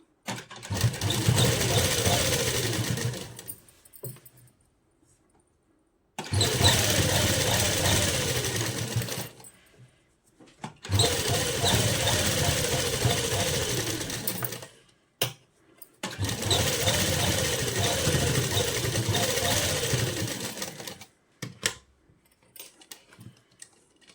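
A sewing machine stitches a seam on a salwar in four long, steady runs of rapid, even mechanical whirring, each lasting several seconds and separated by brief pauses, close and loud.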